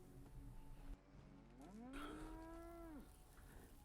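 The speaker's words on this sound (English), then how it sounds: "Now you can go to your trap and free your cows" A cow in the Fallout 4 video game gives a single long, loud moo that rises and then falls away, heard alone over a low game background with no speech.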